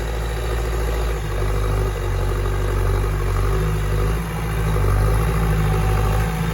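A Massey Ferguson 4708 tractor with an 85-horsepower, 4,400 cc turbo direct-injection engine idles close by, giving a loud, steady low drone with a faint mechanical clatter throughout.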